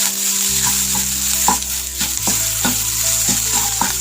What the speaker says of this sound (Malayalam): ഇതിൻ്റെ പച്ചമണം ലേശം ഒന്ന് വിടുന്നവരെ നന്നായിട്ട് വഴറ്റാം കേട്ടോ